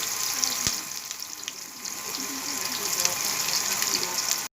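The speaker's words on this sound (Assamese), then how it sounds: "এতিয়া মই তেলখিনি ইয়াতে গৰম হোৱাৰ পিছত ইয়াত অকণমান পিঁয়াজ প্ৰায় মই ভাজি পেলাই কুৰকুৰি টাইপ কৰি ল'ম" Onions fry in hot oil inside a pressure cooker for biryani. The sizzle is soft and steady, with faint crackles and a sharp tap near the start.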